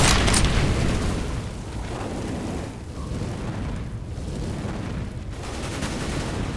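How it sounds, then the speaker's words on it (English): A grenade goes off in Counter-Strike: Global Offensive with a loud boom at the start, followed by a rumbling, noisy tail of gunfire-like bursts that stays fairly loud to the end. "Grenade out! Fire in the hole!"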